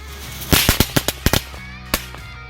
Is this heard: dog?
no